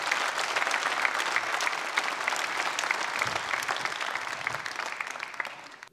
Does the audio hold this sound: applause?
yes